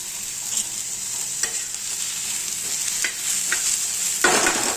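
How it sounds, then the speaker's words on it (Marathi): Masala for egg curry fries in a pan until brown, giving a steady, close sizzle broken by occasional scraping stirs, with a louder stir near the end. "आता बघा ब्राऊन कलर होईपर्यंत भाजत आलाय."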